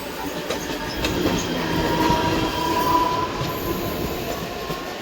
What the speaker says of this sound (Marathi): समोरून एक दुसरी पनवेलसाठी मला वाटतं सी एस टीवरून ट्रेन निघाले